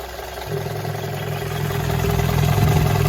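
An M-151 A2 military vehicle's engine runs close by, a steady mid-pitched idle that swells slightly louder and rougher over a few seconds, with no voices.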